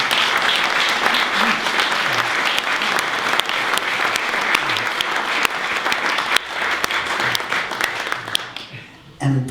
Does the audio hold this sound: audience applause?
yes